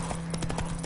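Horse hooves clip-clopping in The Witcher 3, a steady rapid trot of evenly spaced hoofbeats close by, continuing alone without talk.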